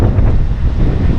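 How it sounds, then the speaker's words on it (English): Strong wind buffets the microphone on the coast at Fiesta Key in the Florida Keys, a loud, steady low rumble with gusty surges and no voices. "Welcome to sunny and windy Florida Keys."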